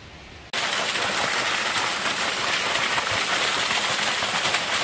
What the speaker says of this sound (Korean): 아, 비가 와서 잘 안 보여요.